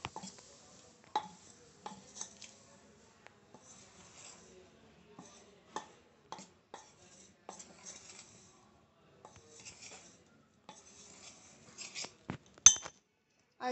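A spoon mixes cardamom powder and grated coconut into a jaggery dosa batter in a bowl, producing faint, sparse clinks and soft scraping taps against the bowl in a quiet room, without talking.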